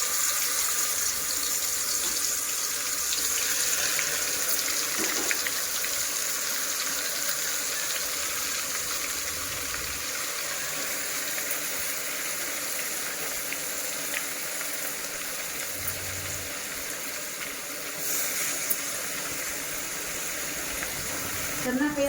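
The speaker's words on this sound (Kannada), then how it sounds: "ಈಗ ನಾವು ಮ್ಯಾರಿನೇಟ್ ಮಾಡಿ ಇಟ್ಕೊಂಡಿದ್ದು ಮಟನನ್ನು ಇದರಲ್ಲಿ ಹಾಕೋಣ." Marinated mutton frying in very hot oil in a pan for a methi masala, giving a steady broad sizzle that runs unbroken throughout, close and fairly loud, with occasional faint stirring scrapes.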